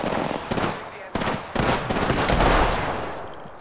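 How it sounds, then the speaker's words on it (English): Enemies fire guns in an online shooter video game. Bursts of rapid, sharp shots crack close by with a few loud hits in quick succession. "The enemies are shooting at me."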